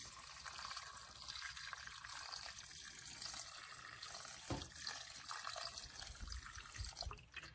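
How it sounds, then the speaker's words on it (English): Water runs steadily from a tap into a pot of green beans, a continuous close splashing fill with slight gurgling variation that lasts throughout. "Putting some water, How much water? just enough to cover the beans."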